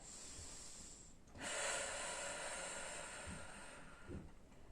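A deep, drawn-out inhale during a Pilates floor exercise, a strong breathy rush starting after a quiet second and holding for about three seconds, close to the microphone, with no talking.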